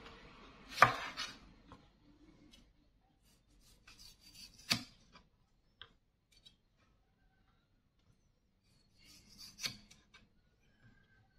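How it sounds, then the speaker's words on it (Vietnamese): Knife finely dicing deseeded tomatoes on a board, with a few scattered quiet chops and scraping rubs separated by long silent gaps. "cà chua thì mình sẽ cắt mình bỏ hột sau đó mình cũng à, cắt hạt lựu nhuyễn nhuyễn luôn nha các bạn"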